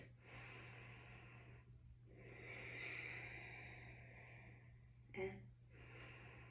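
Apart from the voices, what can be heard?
deep yoga breathing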